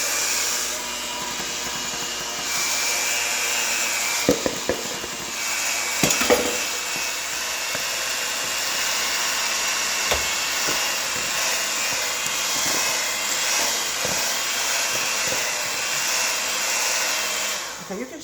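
An electric mixer beating homemade banana bread batter, dry ingredients being mixed in, gives a loud steady motor whine with occasional knocks and scrapes against the bowl, running unbroken throughout with no speech.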